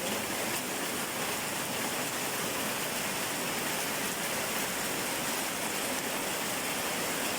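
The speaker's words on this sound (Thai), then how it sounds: "ฝนตกตลอดเลย" Heavy rain pours steadily outside a rural home, a dense, constant hiss with no breaks and no voices.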